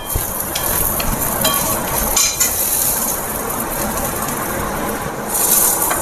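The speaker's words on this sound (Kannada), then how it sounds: "ಇವಾಗ ಒಗ್ಗರಣೆನ ಅದಕ್ಕೆ ಬಾಣಲಿಯಿಂದ ಕುಕ್ಕರ್ಗೆ ಹಾಕ್ತಾ ಇದ್ದೀನಿ." Hot tempering poured from a frying pan into a pressure cooker of vegetable kootu gives a steady, close, hissing sizzle that fills the whole stretch, with faint clinks of metal and no talking.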